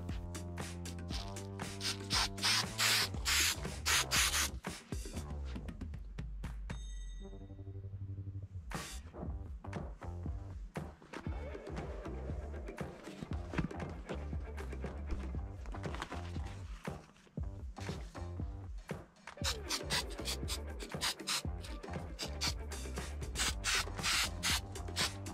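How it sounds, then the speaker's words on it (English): 3M Super 77 spray adhesive sprayed onto HDPE and foam for a Yamaha jetboat marine seat base, loud sustained hissing bursts with rubbing and handling noises, close and steady throughout. "I'm going to use this 3M Super 77 and spray it on the HDPE and the foam."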